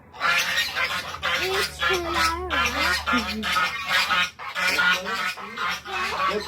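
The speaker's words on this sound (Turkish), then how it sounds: "Bir sürü tavuk var." A crowd of poultry calls continuously nearby, overlapping clucks and squawks forming a busy, noisy chorus.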